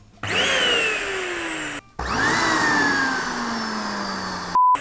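A Deerma anti-allergy mite vacuum cleaner powers up twice with a loud motor whine that rises and then settles into a steady drone. A short beep sounds near the end, and nobody speaks.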